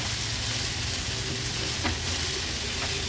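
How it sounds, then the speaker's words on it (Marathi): Crushed onion, ginger, garlic, chili and coriander frying in oil, a loud, dense, continuous sizzle close up with a brief stirring scrape. "आता व्यवस्थित हे तेलात आपण शिजवून घेणार आहोत।"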